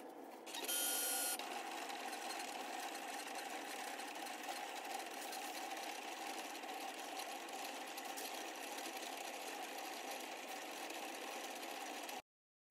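A vinyl cutting machine cuts a tree-line design from vinyl on a cutting mat for a tumbler, giving a steady, quiet mechanical whir with a brief louder burst at the start. It runs alone for about twelve seconds and then stops.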